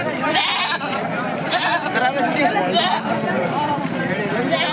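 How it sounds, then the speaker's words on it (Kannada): Goats bleat amid a crowded village livestock market in Karnataka, their calls mixed into steady crowd chatter and nearby voices, with occasional hoof shuffles. "ಮೇಕೆಗಳು ಜಾಸ್ತಿ ಬರ್ತವೆ"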